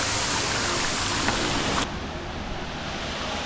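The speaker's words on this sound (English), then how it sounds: "we're at the top of the other bit of the falls here" Rushing water at the top of Tinisikuwang Falls in Cebu, Philippines, a steady broadband roar close to the microphone, slightly quieter after a brief shift partway through, with wind buffeting and no talk.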